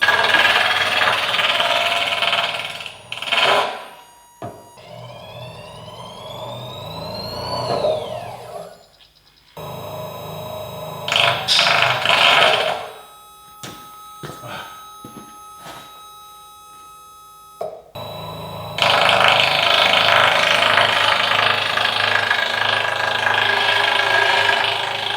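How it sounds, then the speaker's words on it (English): Stepper motor on a CNC plasma gantry stalling repeatedly, giving harsh buzzing and rattling bursts broken by rising whines and brief silences, loud and close with no talk. "stepper motor is not gonna kill it. It keeps stalling on me."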